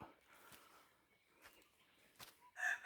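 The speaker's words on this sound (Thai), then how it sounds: "เสียงนกร้องด้วยนะครับ ทุกคน" Chickens and a rooster at a rural home stay, a few soft clucks followed by a loud, close crow at the end over quiet outdoor ambience.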